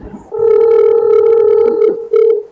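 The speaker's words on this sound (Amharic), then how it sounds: "ችግሩ መሲ ስልክ አታነሳም" A telephone ringback tone repeats on a call that goes unanswered, a steady mid-pitched electronic tone sounding in two long bursts with a short gap between them, close and clear, with no speech.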